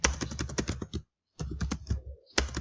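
Rapid keystrokes on a computer keyboard while entering data into an MS Excel spreadsheet, quick close clicks in two bursts separated by a short silent pause, then a final tap.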